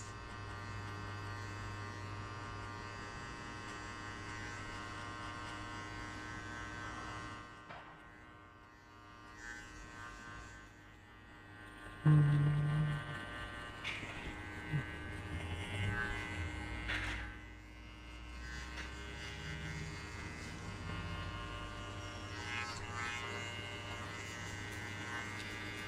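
An electric hair clipper buzzes steadily and close throughout a buzzcut, its drone swelling and dipping as the blades move across the head, with no talking.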